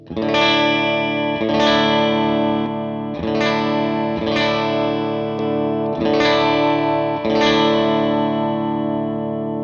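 An electric guitar chord rings out repeatedly through an Empress Effects Nebulus chorus vibrato flanger pedal, with a swirling modulation, each strum sustaining loudly before the next, about every second and a half.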